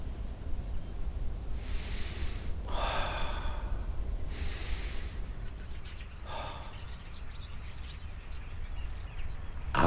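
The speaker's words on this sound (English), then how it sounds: "again the triple breathing, inhaling fresh air," Slow, deliberate breaths in a Lu Jong breathing exercise: a few long airy inhales and exhales spaced a couple of seconds apart, close to the microphone over a quiet steady background, with no talking.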